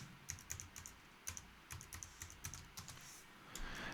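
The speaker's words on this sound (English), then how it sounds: "I would just, put in my password and that's it." A password is typed on a computer keyboard in short bursts of light, quiet keystrokes with brief pauses between taps, faint and close.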